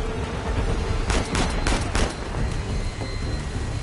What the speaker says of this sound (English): Oh, I'm getting shot at still.